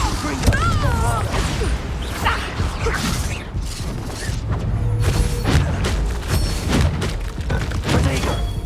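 Blasting spells in a Harry Potter video game burst and crash in repeated booming impacts with shattering debris and mechanical clatter, layered under a busy game soundtrack.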